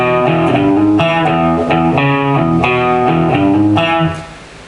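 Guitar plays a riff with hammer-ons, a bright, twangy run of bass notes and chord stabs in a bouncy rhythm, loud and close, ending in a brief fading ring.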